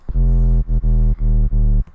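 A dry synth bass plays four deep, sustained notes separated by short gaps, loud and close, with no other sounds.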